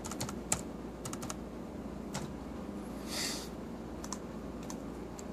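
Password typed on a computer keyboard, a quiet scatter of light key clicks in short bursts over a low room hum, with one slightly louder tap and a soft rustle partway through.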